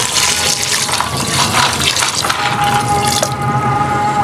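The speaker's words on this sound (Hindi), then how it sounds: "इसके अंदर पानी शामिल कर देंगे।" Water pours steadily into a pot of smoky yogurt beef curry (dahi dhuaan gosht), a continuous close splashing and trickling stream lasting several seconds with no talk over it.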